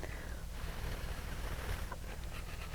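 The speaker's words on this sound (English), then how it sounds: "you just blow some air through this to blow off the chaff" Breathy blowing of air across a pan of lettuce seeds to lift off the chaff, a steady close rushing hiss with soft fluctuations throughout.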